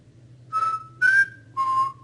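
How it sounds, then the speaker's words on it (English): A person whistles three short, clear notes in a row, each held briefly with small pauses between, close and fairly loud with no talking. "can you teach me how to whistle?"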